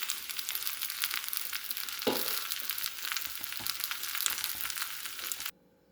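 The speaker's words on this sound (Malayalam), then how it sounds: "ചൂടായ എണ്ണയിലേക്ക് മഞ്ഞൾപ്പൊടി ഇടുന്നു." Turmeric powder goes into hot oil for an egg curry, giving a loud, continuous close frying crackle with a brief stir stroke partway through before it cuts off abruptly.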